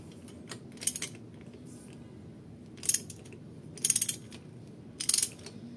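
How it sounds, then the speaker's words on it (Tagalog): Ratcheting clicks of a spark plug socket tool working spark plugs out of a Honda Civic EG D15B engine, four short bursts of close, crisp metallic ratcheting spaced over a low steady background hum. "spark plug tool remover"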